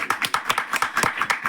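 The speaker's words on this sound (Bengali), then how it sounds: "জোরে হাততালি।" A crowd claps loudly at a prize-giving during a Saraswati Puja function, with sharp, quick hand claps close by and keeping up a lively, uneven rhythm.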